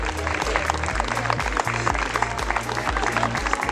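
Applause at a secondary school graduation ceremony for ESO students, a dense crowd clapping steadily throughout, with a rhythmic thumping beat of background music underneath.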